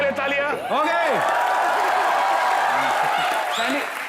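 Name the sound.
audience applause for Riteish Deshmukh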